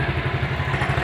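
A motorbike engine, started without its ignition key, runs at a close, steady, rapid throb with a rough mechanical clatter and no voices.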